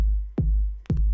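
An electronic kick drum from a track, with its click layer removed, thumps twice about half a second apart. Each hit is a deep, booming sub-bass sweep that falls in pitch, heard alone with no talk.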